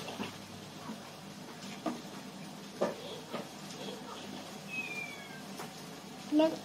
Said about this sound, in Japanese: 猫にゃ ん。